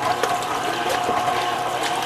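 Yeast water is poured slowly into gluten-free bread mix containing teff flour, a steady continuous splashing trickle of liquid at close range.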